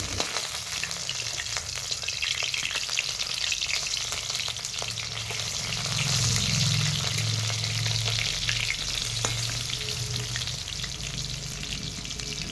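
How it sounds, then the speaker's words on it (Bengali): Bottle gourd leaf fritters frying in oil, a steady close sizzle with crackles and occasional scraping stirs as they are turned, no voices. "হাতে খানিকটা সময় নিয়ে এই বড়াগুলো উল্টে পাল্টে ভেজে নিতে হবে।"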